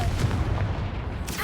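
Confringo blasting spell in Hogwarts Legacy goes off as a booming explosion with crackling blast noise, loud and dense across the short moment.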